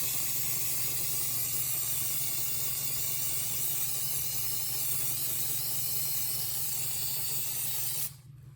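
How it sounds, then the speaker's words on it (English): Duplicolor Metal Cast Red aerosol paint sprays in one long, steady, close hiss for about eight seconds, then cuts off abruptly into near silence. "using Duplicolor Metal Cast Red, masking tape for the emblem,"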